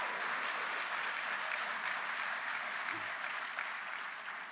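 A crowd at a university's annual scholarship ball applauds in a dense, sustained roar of clapping that holds steady and tapers slightly at the end.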